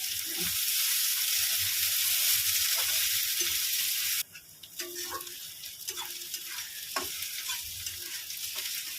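Chopped onions hit hot oil for a lentil chorchori and give a loud, steady sizzle for about four seconds. The sizzle then drops to a softer frying hiss, with scattered stirring scrapes and clinks.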